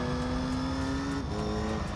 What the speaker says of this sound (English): I got a big boy 8-liter V10 up front